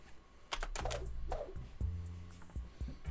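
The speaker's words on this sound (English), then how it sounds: "My keyboard's being really loud." Loud computer keyboard typing close to the mic, a quick irregular burst of sharp key clacks over a few seconds with no talking.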